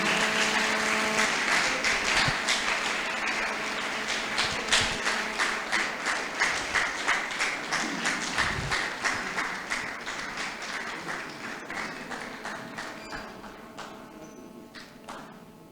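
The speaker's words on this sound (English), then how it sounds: "Please don't stop clapping." A lecture audience at LASU claps for an arriving professor of applied linguistics. Sustained applause turns into rhythmic, evenly spaced clapping and gradually fades toward the end.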